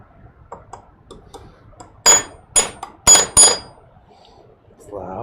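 Four sharp, ringing hammer strikes land close by in an irregular rhythm, with faint ticking and light handling sounds in the quiet between them.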